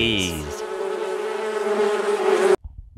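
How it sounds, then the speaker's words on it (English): A dense, steady insect buzz with a humming drone that holds for about two and a half seconds, then cuts off abruptly. "Bees!"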